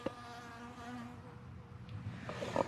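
Honey bees hum at a beehive entrance in a faint, steady buzz of overlapping wings that drones on continuously with no voices.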